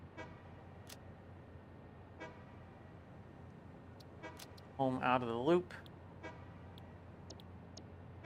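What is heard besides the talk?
train horn honking in Satisfactory video game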